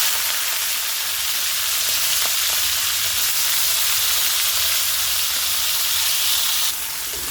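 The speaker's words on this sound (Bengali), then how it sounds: "আরেকটা পাশে কড়াইতে তেল দিয়ে তাতে দিয়ে দিচ্ছি চিংড়ি" Prawns fry in hot oil in a wok, giving a loud, steady, close hissing sizzle that runs unbroken throughout.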